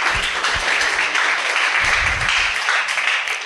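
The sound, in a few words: audience applause at tech talk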